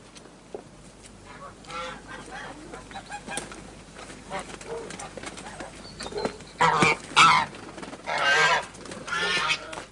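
Geese honking in a poultry yard for a radio drama, loud bursts of honking and cackling in the second half over a busy background with faint voices.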